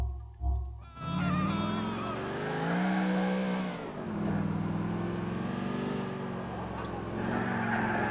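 Car engine droning and revving while driving in Grand Theft Auto IV, a steady mid-loud hum with shifting pitch after a brief opening thump, with a voice talking over it.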